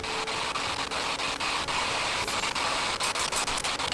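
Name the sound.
hair dryer running in another room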